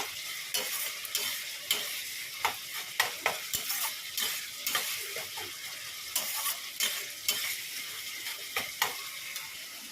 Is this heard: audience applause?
no